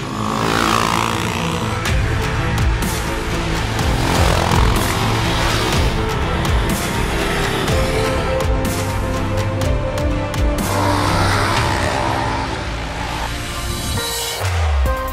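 A Husqvarna Svartpilen 701 motorcycle is ridden, its engine droning loudly and steadily with rising and falling revs and gear changes, close up and continuous throughout.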